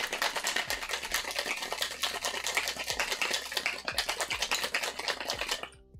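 A cocktail shaker worked by hand at a home bar, giving a loud, steady rattle of ice and liquid sloshing with rhythmic knocks for about five seconds, then stopping abruptly.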